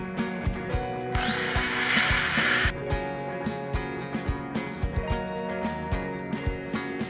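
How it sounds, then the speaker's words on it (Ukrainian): An electric mixer beats eggs with sugar for a jam pie, giving a bright whine that runs for about a second and a half. Quieter rhythmic knocks and taps sound through the rest of the clip. "починаємо збивати яйця з цукром"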